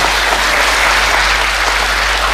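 A church congregation claps and cheers for Jesus, a dense, loud, continuous wash of applause and voices filling the hall without a break.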